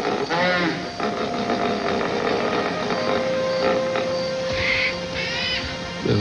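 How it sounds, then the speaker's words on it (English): Dusk on an African river heard from a canoe: a dense, steady wash of insect buzz and hum, with a high, near-constant drone and scattered bird calls and chirps rising over it. "During dusk and as the sun's going down, you get all the river noises"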